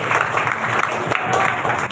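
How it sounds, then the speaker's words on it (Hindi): A church congregation at a Sunday worship service claps together in a dense, continuous burst of applause lasting about two seconds, fairly loud and close. "तालियां बजाएं यीशु मसीह के लिए।"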